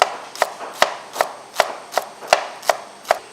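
A knife chops shallots on a cutting board in a steady rhythm of about nine crisp, close knocks, each sharp thud evenly spaced with no talking.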